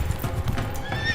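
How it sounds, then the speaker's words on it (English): Wild mustangs on open plains: a quick, steady clip-clop of galloping hooves with a neigh rising over it, moderately close and continuous. "400 years later, over 1 million Mustangs run wild."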